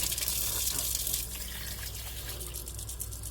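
Water runs from a mixer tap in a steady, close rush, louder for the first second before settling into an even, continuous stream.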